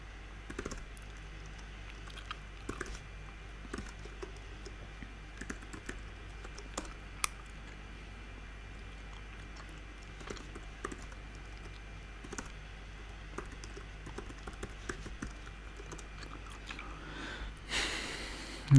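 Text being typed on a computer keyboard during Python Selenium scripting, with quiet, scattered keystrokes over a low background hum and occasional breaths, faint and close, with no talking.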